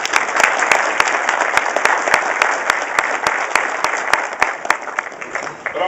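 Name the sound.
audience applause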